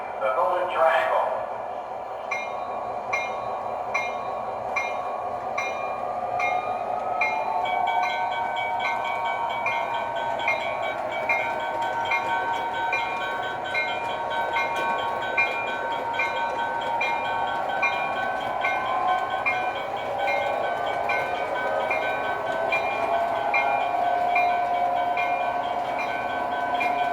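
O scale model passenger train running along its layout track, a low steady rolling rumble with faint rhythmic clicking that carries on for the full length after a brief sharp sound at the start.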